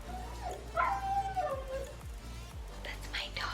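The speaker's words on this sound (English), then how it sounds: "That's my dog." A pet dog lets out a faint, drawn-out howling whine with a few soft yips, heard quietly at some distance amid low background noise and murmuring.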